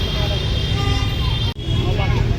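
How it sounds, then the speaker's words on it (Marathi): A Lamborghini driving past at a vintage car fiesta: a low, steady engine drone with a brief dropout partway through, under people talking nearby. "इकडे बघा लॅम्बोर्गिनी चालली आहे"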